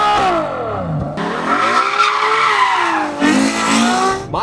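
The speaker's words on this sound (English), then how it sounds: "The hills are alive with the sound of F12." Ferrari F12 sports car on a hilly road, its engine roaring through rising and falling revs with tires squealing, loud and close, with sweeping pitch changes and a brief gap between bursts.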